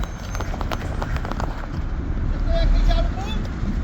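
A lorry rolls past at a newly built roundabout, a broad rumbling road noise that swells and peaks toward the end, with a person talking over it.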